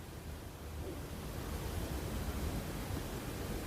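Around 600 g of chicken hitting a hot frying masala for Chettinad chicken biryani, giving a loud, steady, close sizzle that holds evenly throughout, with no voices.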